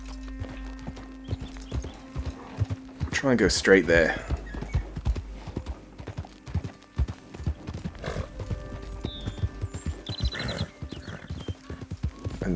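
Steady clip-clop of horse hooves trotting, with a brief whinny partway through, under a man's speech and game sound effects, in Red Dead Redemption 2.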